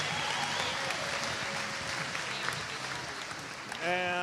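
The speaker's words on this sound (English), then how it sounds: "How about a big round of applause for the red team?" A volleyball crowd gives the red team a steady, sustained round of applause at an all-star event, with an announcer's voice coming in briefly at the end.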